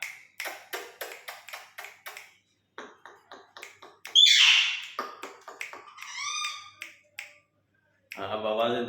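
A pet mynah and a parrot call back and forth indoors: sharp clicks and ticks, a loud squawk, warbling whistles, and a harsh buzzy call, separated by short pauses.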